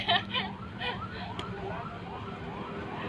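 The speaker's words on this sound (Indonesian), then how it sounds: "Ambulan woi." An ambulance siren wails outside a regional police headquarters, its repeating rising and falling tone carrying over a crowded, murmuring street scene at moderate distance.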